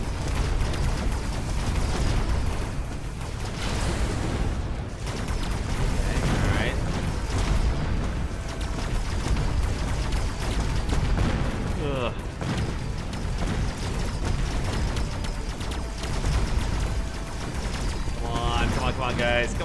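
Battle explosions in the mech strategy game Mechabellum, a continuous rumble of booms, bursts and mechanical clatter with scattered higher zaps, steady and loud for the whole stretch with no pauses.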